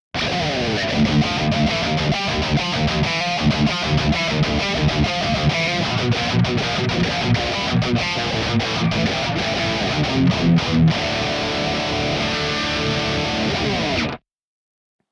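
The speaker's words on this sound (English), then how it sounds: "green screen, it's Tube Screamer-esque, right? So having that volume pumped is getting what we want out of it." A driven, crunchy Engl-style electric guitar tone on a Kemper, boosted by a Tube Screamer-style green overdrive pedal with its volume up, plays dense chords and riffs with warm overdrive for about fourteen seconds, then cuts off abruptly to silence.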